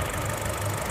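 A used Honda car engine idles with the air conditioning running, a steady low rumble with a faint mechanical ticking, close and continuous throughout.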